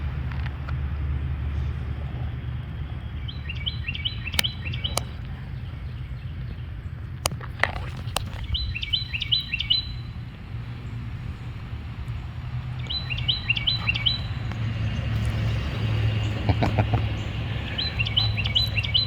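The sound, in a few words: birds chirping outdoors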